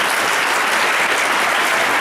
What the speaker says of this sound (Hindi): सबसे पहले तालियों से जोरदार इस्तकबाल करो।